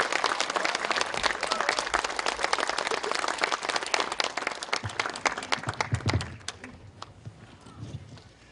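A lecture audience applauds to welcome a party leader onto the stage at a Saturday talk, with loud, dense clapping that gradually thins and fades into scattered claps and room noise.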